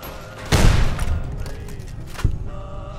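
Gunfire in Fallout: New Vegas, with one loud, close shot with a booming tail and a second, sharper report a moment later, over a busy low background.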